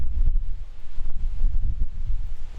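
Gusty wind on an open golf course buffeting the microphone, a low rumbling roar that swells and dips in uneven bursts, loud and close with no other sounds.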